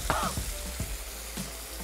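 Food frying in a pan on a kitchen stove gives a soft, steady sizzle with a few light clinks and stirring knocks, close and moderately quiet.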